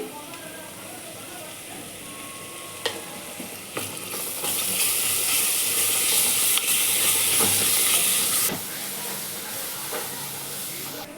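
Vegetables sizzling and hissing in a hot pan for veg biryani, with stirring clatter and occasional clinks, the frying growing louder for a few seconds before settling, while a voice talks faintly.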